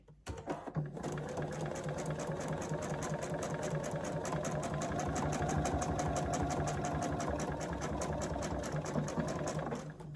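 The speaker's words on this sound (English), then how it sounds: "this is the line right here that we're sewing on" Close up, a sewing machine stitches a quilt seam with a fast, even needle rhythm that runs steadily for about ten seconds without pause, with no voices over it.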